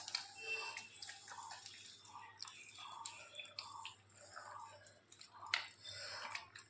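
Hands repeatedly squeeze and wash flour dough in a bowl of water, producing soft, close, wet squelches and small drips in an irregular rhythm, quiet and with no talking.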